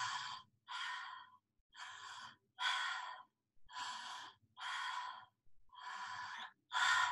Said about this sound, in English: Nice deep inhale through the mouth.